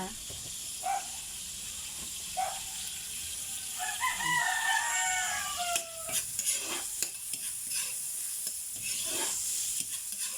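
Vegetables for coconut-milk stew with moringa, ginger and onion sautéing in a pan, with a steady sizzle and stirring scrapes throughout, and a few brief rooster-like calls in the background.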